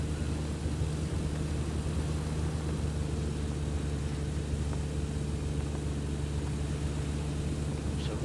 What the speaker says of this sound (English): We're going to be coming back in for a full stop landing on the main runway